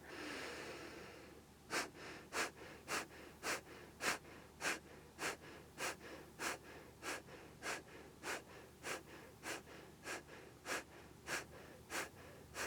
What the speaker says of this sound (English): Take a normal inhale. And a full exhale.